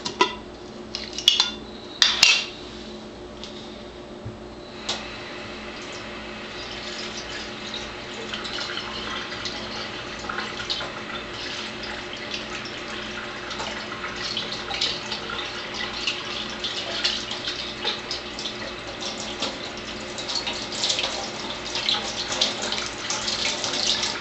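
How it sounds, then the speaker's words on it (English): Tap water runs steadily over eggs being rinsed of vinegar and citric acid solutions at a sink, with a few sharp clinks of dishes or a container near the start, then a continuous even splashing stream. "I'm going to just rinse the solutions out of them"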